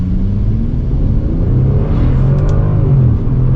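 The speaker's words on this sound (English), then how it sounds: "we're gonna do an acceleration from a standstill with it" A Bentley Continental GT Speed pulls away from a standstill, its engine note rising in a strong, close rumble that builds steadily in pitch over a few seconds.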